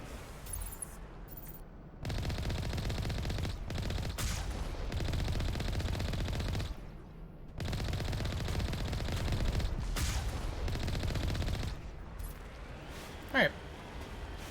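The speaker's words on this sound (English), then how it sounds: "they're shooting through the smoke" Enemy gunfire in the sci-fi shooter Mass Effect, several long bursts of rapid automatic shots rattling loudly, separated by short pauses, with a sharp ricochet-like whine near the end.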